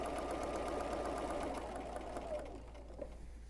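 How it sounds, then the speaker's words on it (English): A sewing machine runs a steady straight stitch while quilting a laser-cut kit pillow, its fast even whir holding close and continuous before tapering off near the end. "go back to a straight stitch, and then start quilting"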